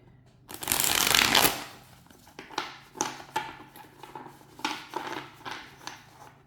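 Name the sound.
quick shuffle of a thick tarot card deck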